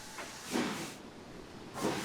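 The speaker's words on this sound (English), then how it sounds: "because steam condenses, so it kicks any water out of the cylinders" Steam locomotive cylinder cocks in Train Simulator vent in two soft, breathy hissing bursts, quiet and slightly distant, separated by a lower steady background hiss.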